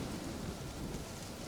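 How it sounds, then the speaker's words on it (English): A steady, soft hiss of rain and low rumbling from a thunderstorm in the game Witcher 3: Wild Hunt, faint and continuous without a clear break. "A storm, damn it."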